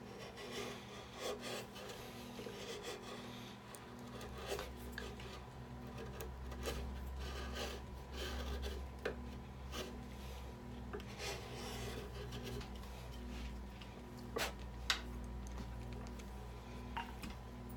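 Hand carving tool rasping a deep groove into a wooden Santa base with a holly motif, a steady run of close scraping and rubbing strokes with sharper cuts now and then, no talk.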